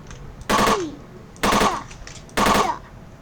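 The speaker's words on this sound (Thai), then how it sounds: "ยิงโดน อ่ะแบบนี้ก็ประมาณนี้นะครับ" Three evenly spaced bursts of gunfire in a Roblox zombie shooter game, each about a quarter second long and loud against a low background hum, with no talk.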